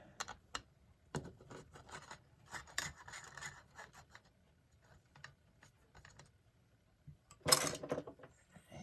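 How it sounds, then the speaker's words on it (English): Small metal nuts being worked off the movement of a 1936 Ingraham SA5 alarm clock, heard as scattered close clicks, scrapes and light taps with quiet gaps, plus one louder rasping clatter near the end. "let me work on removing these 3 nuts here."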